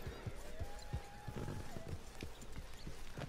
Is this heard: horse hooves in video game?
yes